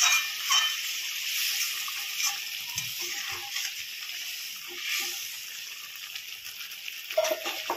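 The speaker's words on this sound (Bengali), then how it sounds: "এখন কি সুন্দর ফুটে উঠতে গরম জল দিচ্ছি" Hot water goes into sizzling fried masala for a prawn kofta curry, producing a faint, continuous hiss and bubbling with small splashy bursts, steady throughout and fairly quiet, with no talking.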